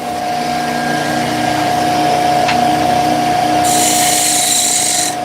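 Steady tool whine of a lathe spinning a wooden bowl as a bowl gouge cuts, a constant drone with a brief click midway and a brighter hissing shaving sound in the last second and a half; no talking.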